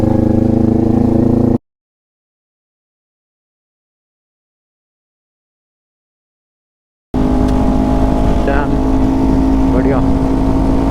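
A motorbike rides along a mountain road near Almora, its engine droning steadily with rushing wind, broken by a few seconds of complete silence before the engine noise resumes; a rider talks over it.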